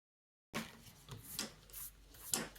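Prismacolor coloured pencils are sharpened in short, quiet, raspy grinding bursts, several uneven strokes close by with no talking.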